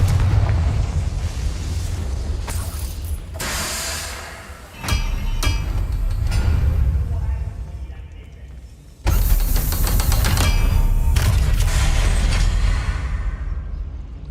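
Fiery explosion spells burst in Hogwarts Legacy combat, with sharp booming blasts near 5 and 9 seconds, each followed by sustained loud rumbling roar and crackle, with lighter impacts earlier in the scene.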